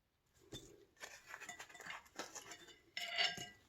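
Metal spoon clinking against dishes while making a Hidden Valley Ranch dried beef dip, several light, sharp taps and scrapes spread unevenly over a few seconds, with one brighter clink near the end, close and fairly quiet.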